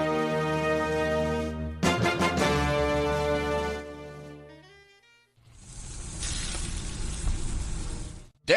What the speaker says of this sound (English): That's the sound of sizzling, dry-aged USDA Prime Wagyu and Angus steaks